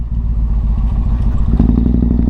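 A motorcycle engine rumbles loudly and steadily up close while riding, with a clattering pulse that grows rougher as it revs near the end.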